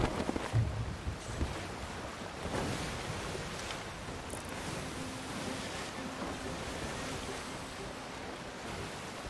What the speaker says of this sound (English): So many waves.